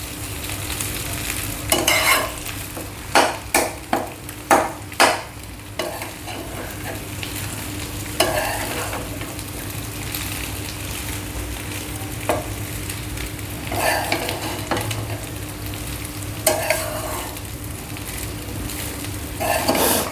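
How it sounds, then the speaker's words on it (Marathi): Jowar khichdi sautéing in ghee with cumin, a loud continuous sizzle under a quick burst of spoon-against-pan scrapes and knocks early on, then steadier stirring with occasional clatters. "छानपैकी परतून घेऊया."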